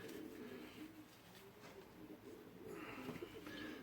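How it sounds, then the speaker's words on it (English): A standard checker pigeon carrying the opal gene coos softly, with low murmuring calls repeating through the clip, fairly faint and close among other birds. "this is basically your standard checker pigeon"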